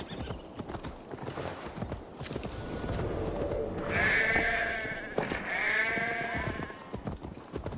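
Sheep bleat in the Assassin's Creed Valhalla video game, several drawn-out wavering calls in the second half, mixed with hoof clip-clop and faint game ambience.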